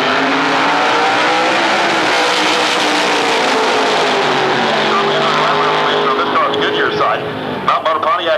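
A 1999 Pontiac pro stock drag racing car roars down the strip at Atlanta Dragway, a loud sustained engine howl with a falling pitch as it passes, under a track announcer's continuous commentary.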